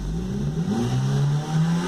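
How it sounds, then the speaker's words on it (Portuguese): Car engine in the workshop revved hard and held between 4,000 and 5,000 rpm, a steady loud drone that bogs slightly, as if straining, with a hollow tone suggesting a clogged catalytic converter. "Você escuta até o barulho no motor que ele amarra."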